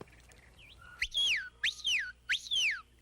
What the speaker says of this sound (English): When you want a dog to circle a bunch of cows clockwise, you blow your whistle.